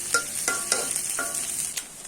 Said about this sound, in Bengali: নুডলস রান্নার জন্য পেঁয়াজ মরিচ প্রথমে এই যে তেলের পরে ভেজে নেব।